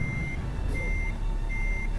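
A truck in Euro Truck Simulator 2 sounds its reversing alarm, three long steady electronic beeps spaced apart over a constant low engine rumble.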